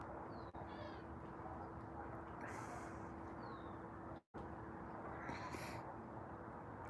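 A cat gives a few short, whiny meows over steady background hum, the calls scattered and fairly faint, with no one speaking over them.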